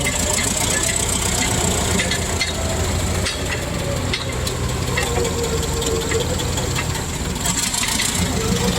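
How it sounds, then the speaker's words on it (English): An old 1967 vehicle's engine, started from cold on a chilly day, idles with a loud, steady rumble and faint rhythmic knocking and rattling throughout, close up and without talk. "I guess the old girl runs pretty good for a 1967 model, though."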